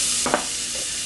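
Onions hit a hot pot for Bahamian crab and rice, giving a steady close sizzle with a couple of brief stirring scrapes in the middle.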